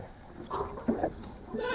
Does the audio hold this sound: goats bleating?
yes